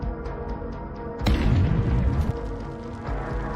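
A tank fires a shell in wartime combat in Ukraine and the round explodes, heard as a sudden heavy boom that breaks into a sustained loud roar and rumble of the blast, distant and alone with no talking.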